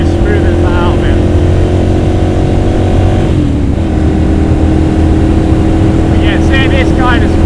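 A Ducati Monster 796 naked motorcycle at speed, its engine a loud steady drone mixed with heavy wind rush throughout, and a rider's voice faintly over the top.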